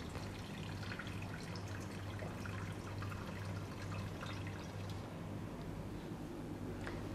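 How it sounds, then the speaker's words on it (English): Spore suspension poured into a large beaker in a lab setting, a continuous watery pour and dribble with faint drips, steady and moderately quiet throughout. "So pour the suspension into a large beaker."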